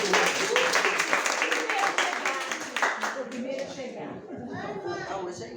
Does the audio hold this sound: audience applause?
yes